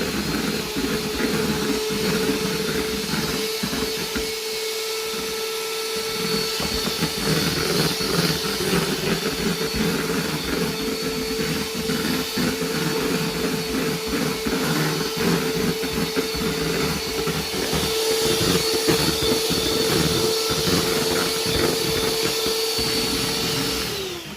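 An electric mixer whirs steadily while beating sponge cake batter as sugar is slowly added, a loud continuous motor drone with a faint steady tone that runs throughout without pause.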